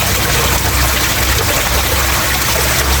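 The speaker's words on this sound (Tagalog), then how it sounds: "Yan yung outlet ng exit ng tubig, dalawang tubo yan." Water pouring from two filter outlet pipes into a small tilapia tank, a loud, steady splashing rush that runs unbroken throughout.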